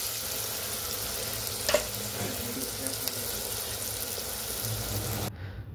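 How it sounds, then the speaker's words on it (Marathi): Chopped onion fries in a pan of oil until golden for a fresh jawla shrimp dish, giving a steady, quiet hiss with a single light clink of a utensil partway through. "कांदा आता पिवळा पडेपर्यंत त्याला भाजून घेणार आहोत।"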